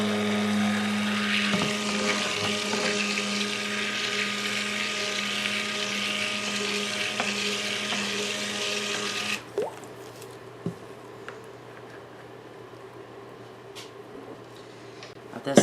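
A blender whirring through red-coloured soap batter, a loud steady motor drone for about nine seconds that then stops, leaving quiet handling noises and faint knocks.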